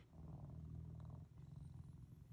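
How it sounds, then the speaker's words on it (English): A four-year-old cat purrs steadily and close up during wound care, a continuous low rumbling drone with slight pulsing that runs through the whole stretch without pause. "he seriously has not stopped purring"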